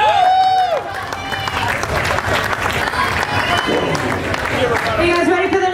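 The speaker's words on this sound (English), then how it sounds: "give her some round of applause." An outdoor crowd at a bikini contest during Daytona Bike Week claps and cheers loudly and steadily through the whole stretch, with voices and whoops mixed in.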